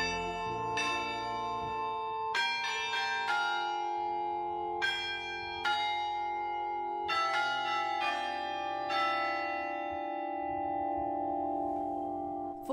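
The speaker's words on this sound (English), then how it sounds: "This is what the bells of Hallgrímskirkja sound like." The bells of Hallgrímskirkja church in Reykjavík ring out in a loud, slow peal of overlapping strikes, each tone ringing on and decaying into the next, with no talking.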